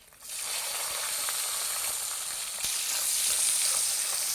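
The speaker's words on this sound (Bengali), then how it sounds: "পুরো পেঁয়াজ ভাজা হয়ে গেল" Sliced onions frying in oil with cumin, dried red chillies and bay leaves, a steady dense sizzle that swells slightly after a soft start, close and continuous with no talk.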